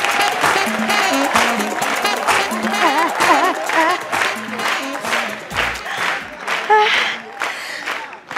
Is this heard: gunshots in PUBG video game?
no